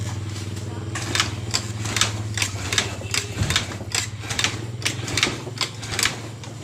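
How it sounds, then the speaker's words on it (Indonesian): A Honda Beat ESP scooter that won't start is kick-started over and over. It gives a run of sharp, rapid mechanical clacks over a steady low hum, close by and evenly spaced. "Mau diselah pun tidak mau hidup ya teman-teman. Kemudian saya selah."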